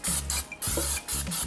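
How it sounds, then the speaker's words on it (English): Cooking spray from a can misted onto an air fryer tray in three short close bursts, each a bright hiss lasting about a third of a second, with a low hum running beneath. "you can use a little bit of cooking spray like I have"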